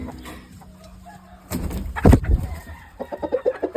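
Brown red gamefowl chickens cluck and squawk close by in a yard, a quiet stretch giving way to a loud burst of calls, then rapid repeated clucking.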